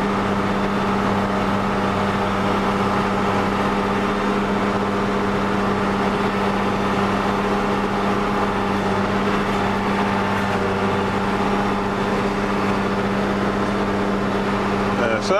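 A Fastrac tractor engine labors steadily under load, a constant close drone with a low hum that holds without letting up throughout.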